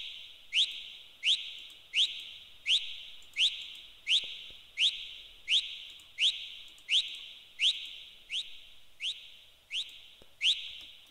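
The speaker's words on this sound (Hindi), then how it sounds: "उसके बाद ये एक सीटी है" A whistle sample in a song mix plays as a series of about fifteen short, bright rising chirps, evenly spaced roughly every 0.7 seconds and heard alone at a moderate level.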